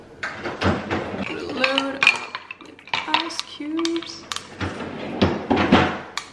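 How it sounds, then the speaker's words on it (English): Ice cubes being loaded into a glass while preparing a keto fat bomb recipe, heard as repeated clinks and clatters of ice and glassware with kitchen handling noises, under a person speaking throughout. "So I'm just gonna grab some ice cubes as well. Load up with ice cubes."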